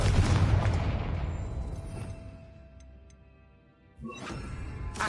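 A Confringo blasting spell explodes in Hogwarts Legacy inside a witch's tomb: a loud, broadband boom opens and decays slowly over several seconds with a few faint ticks, then a second sharp burst lands near the end.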